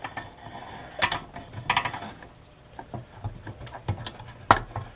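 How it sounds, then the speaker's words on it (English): A steel C-clamp is tightened by hand onto the plastic pulley of a pull-start recoil assembly, giving close, irregular metallic clicks and ratcheting creaks with a few sharper taps. "I know I can get this C-clamp on."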